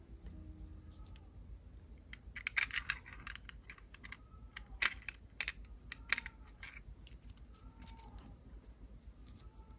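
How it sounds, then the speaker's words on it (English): Small glass beads slide onto bracelet stringing wire, making faint, scattered close clicks and light taps over a quiet background, with no talk. "So now I'm going to slide on one of the purple beads."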